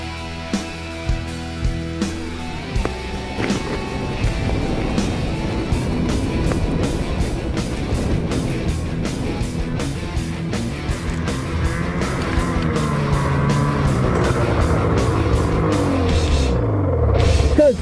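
Arctic Cat 2015 mountain snowmobile engine running steadily while riding, a loud continuous droning motor roar with shifting pitch and a few sharp ticks, alone without talk.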